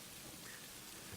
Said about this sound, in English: it started to get rainy and foggy